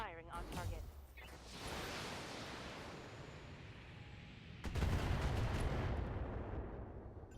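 Mech weapons firing in the Battletech video game: a sustained roaring barrage of gunfire and explosive rumble, with a second louder salvo erupting partway through, no talking.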